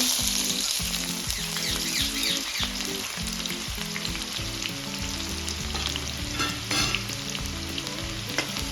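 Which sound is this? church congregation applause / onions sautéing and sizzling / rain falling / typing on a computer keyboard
onions sautéing and sizzling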